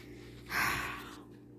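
A cat named Chunk breathes heavily and snorts through his nose, a single loud rasping huff rising and fading over about a second, close by, with steady low background hum and no talking.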